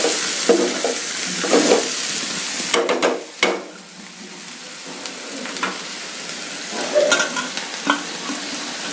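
Broad bean (chikkudukaya) fry stirred in a hot pan, a spatula scraping and turning the beans over a steady sizzle, with a few louder clattering strokes in bursts.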